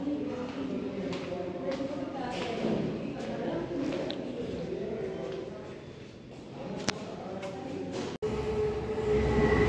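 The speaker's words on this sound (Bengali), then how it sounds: "এর সামনে দিয়ে ইস্ট ওয়েস্ট মেট্রো যাচ্ছে," An East-West Metro train rumbles past on the elevated metro bridge at Salt Lake, Kolkata, a steady rolling roar of wheels on rails with faint clicks and a brief sharp squeal, heard from nearby.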